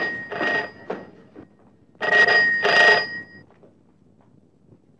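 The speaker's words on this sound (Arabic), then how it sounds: "خليك انا هرد على التليفون." A telephone rings with two bursts of a trilling bell, the second longer, loud and close, followed by quiet room tone.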